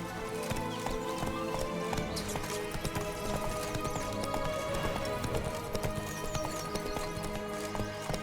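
Roach, Geralt's horse in The Witcher 3: Blood and Wine, trotting in a steady clip-clop rhythm under a dense bed of game music and ambience. The hooves are clear and continuous throughout.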